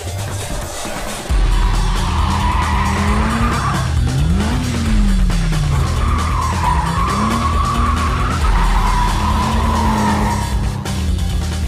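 Car drifting on a mountain road, tires skidding and squealing in a long continuous screech over a loud revving engine, pitch sweeping up and down as the car slides, close and loud with no talk.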